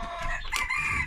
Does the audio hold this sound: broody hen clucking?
yes